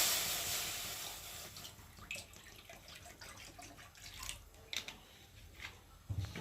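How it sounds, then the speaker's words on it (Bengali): Water runs into a cooking pan (kadai) ahead of boiling chopped botboti beans, a steady close splashing pour that starts strong and thins into a trickle with a few drips and small clinks toward the end. "এখন কড়াতে জল দেব"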